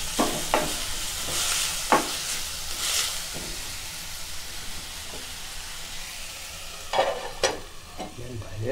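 A coriander chutney mixture is stirred in a pan, with a soft cooking hiss underneath and scattered scraping strokes of a spoon, busier near the beginning and the end.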